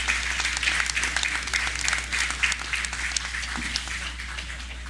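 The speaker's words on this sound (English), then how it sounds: "Another round of applause for the Honorable Desmond Watler." Audience applause at a National Heroes Day ceremony, a sustained crowd clapping at even strength for several seconds, with a steady low hum underneath.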